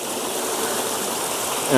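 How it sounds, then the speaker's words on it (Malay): Water pours steadily down a jungle waterfall at Bukit Mor, a loud continuous rushing roar that fills the whole moment, with a brief louder splash near the end. "Tu dia air yang turun."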